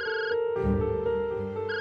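A mobile phone ringing indoors, a clear repeating electronic ring tone, loud and close, with no talk over it.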